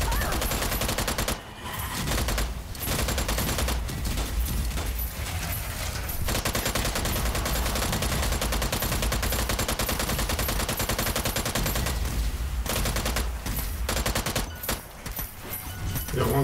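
Rapid, sustained gunfire from the video game Strange Brigade rattles almost continuously and loudly, with bursts and brief gaps between volleys and no talk over it.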